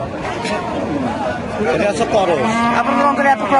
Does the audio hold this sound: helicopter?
no